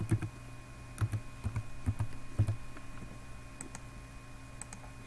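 Keys clack on a computer keyboard as a password is entered during a SQL Server 2014 cluster installation, a close, quick, uneven run of light taps and clicks with no talking.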